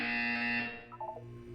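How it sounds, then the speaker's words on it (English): A loud, harsh electronic buzzer from the Portal 2 video game in VR sounds steadily, then cuts off and fades into a lower hum with a few faint electronic blips near the end. "You will hear a buzzer."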